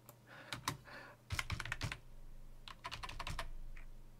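Fingers type on a laptop computer keyboard in quick, irregular bursts of light plastic key clicks with short pauses between runs, close and fairly quiet.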